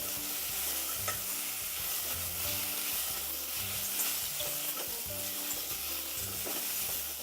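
Grains and greens with freshly crushed black pepper sizzle steadily in a pan while a utensil stirs and taps in a loose rhythm, close and even, a hissing bed running beneath with no voices.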